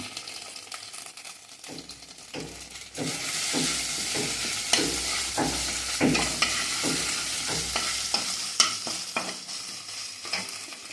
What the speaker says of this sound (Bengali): এবার একটু হিং দিয়ে দিলাম।